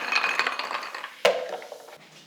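Ice cubes drop into a blender with bright clinks and clatters, one sharp knock standing out midway, and no talk over them.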